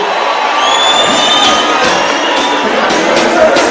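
A large open-air rally crowd at Ngong Racecourse claps and cheers in a dense, sustained roar, with whoops and shouts rising over the applause.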